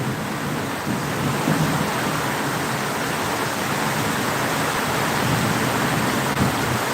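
Heavy rain in Phulpur with storm wind, a loud continuous broadband roar of downpour and gusts filling the whole stretch, low rumbles of thunder within it, no voices.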